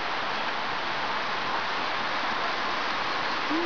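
Steady, dense rain hisses down on a leaky porch roof, a continuous wash of noise without breaks.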